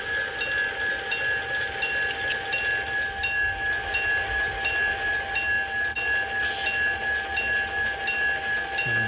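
A G scale model train runs on an outdoor garden layout, giving a steady rolling rumble with a faint rhythmic clatter and a sustained high tone throughout, with no voices.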